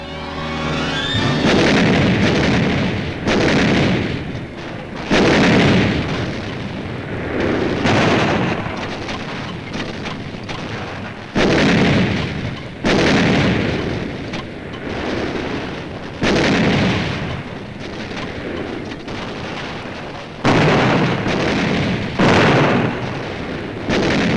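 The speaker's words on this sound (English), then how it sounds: "We call for artillery." Artillery fire on Iwo Jima in 1945 produces heavy, loud booms every few seconds, each rumbling out before the next strike, with no voices.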